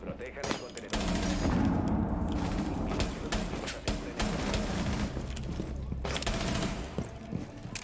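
Sustained machine gun fire rattles almost without pause in Rainbow Six Siege, dense and loud, with a brief gap near the start and another toward the end.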